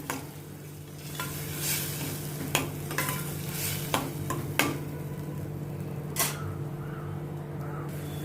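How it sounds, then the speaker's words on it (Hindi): Grated tomato being stirred into a cooking lauki and chana dal sabzi in a pan, a steady low sizzle with scraping stirs and occasional sharp utensil clicks against the pot. "टमाटर को भी मैं अच्छी तरह से मिक्स करती हूँ।"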